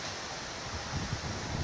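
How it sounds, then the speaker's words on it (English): Wind blows across a rural five-acre property, a soft, steady rush with low gusty buffeting that swells toward the end. "It's a little windy here today."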